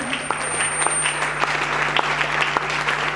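A church congregation applauds and acclaims Jesus with steady, dense clapping from many hands that carries on throughout, loud and close, with a faint tone humming beneath.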